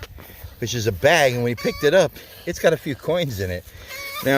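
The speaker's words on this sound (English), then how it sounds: "Sorry about the chicken noise, but they're not too happy that we're over here." Unhappy chickens cluck loudly nearby at an old home, their agitated calls rising and falling while someone talks over them throughout.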